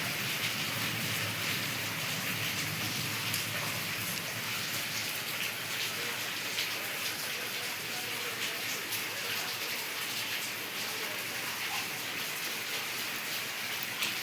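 Steady rain falling with wind, a dense, even hiss of drops on surfaces that continues without a break, moderately loud and with no voices.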